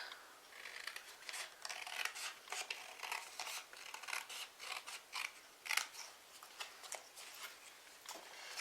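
Scissors snip repeatedly through card, a steady series of close, crisp cuts with short pauses between, fairly quiet and with no talking.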